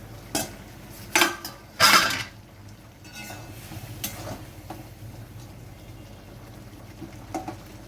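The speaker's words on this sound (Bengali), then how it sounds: "আরো একবার নেড়ে খুন্তি দিয়ে আবার একটু চাপা দিয়ে দিলাম।" A spatula stirs cauliflower curry in a pan with a few sharp scrapes and clanks near the start, then a low simmering sizzle with occasional light knocks.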